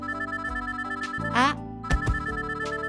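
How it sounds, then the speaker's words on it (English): A phone ringtone plays in the Backstage Pass video game, a moderately loud electronic ring sounding under steady background music with a rising chirp partway through. "My phone rings."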